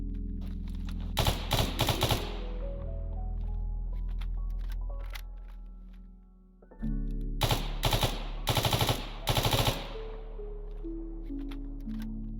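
Short bursts of rapid automatic fire from a SIG 550 rifle in the S.T.A.L.K.E.R. Anomaly video game, with several separate volleys and mechanical reload clicks between them.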